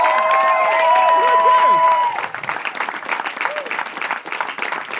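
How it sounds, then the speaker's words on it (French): A live comedy crowd in Longueuil applauds and cheers as a comedian is introduced, loud clapping and whoops filling the room at first, then thinning into scattered claps and murmurs. "s'il vous plaît, applaudissez avec beaucoup d'amour"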